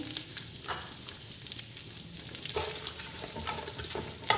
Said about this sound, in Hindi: बस थोड़ा सा हम इसको फ्राई करेंगे 1 से 2 मिनट।